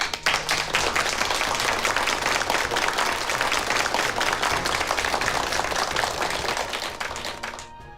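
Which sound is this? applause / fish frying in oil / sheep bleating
applause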